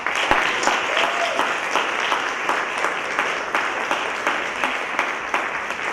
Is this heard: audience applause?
yes